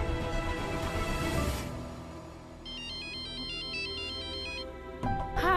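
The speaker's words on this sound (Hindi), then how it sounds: "हम महक के फोन कर दे।" A phone ringtone plays a repeating electronic melody, loud and close, over a busy background of music and noise, ending with a brief burst of sound.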